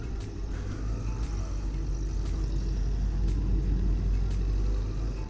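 Race cars at the Willow Springs racetrack, where exotic cars are gathered, make a steady, heavy engine rumble that holds at an even loudness throughout, with no clear passes or gaps.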